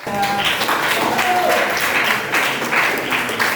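A crowd applauds steadily for several seconds at a university teaching-performance event, a dense wash of clapping filling the room with some voices faintly mixed in.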